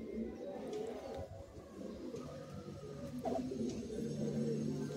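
Madrasi pigeons coo in a loft, soft repeated low throaty calls overlapping continuously at close range, with faint voices in the background.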